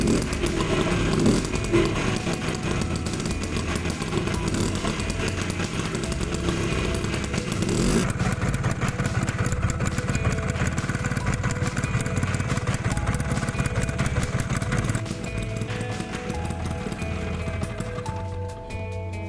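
A Vespa 50 scooter fitted with a DR130 cylinder and an inexpensive replacement carburetor starts and runs, its small two-stroke engine buzzing loudly and continuously at a steady idle with slight shifts in pitch.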